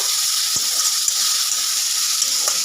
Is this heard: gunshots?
no